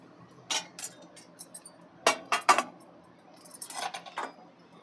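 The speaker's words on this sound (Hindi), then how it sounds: "अब इसमें हम काजू और बादाम और ये चिरौंजी, ये सब हल्के से रोस्ट कर लेंगे।" Cashews, almonds and chironji being roasted in ghee in a pot give a series of close metallic clinks and rattles in irregular bursts, with no voices.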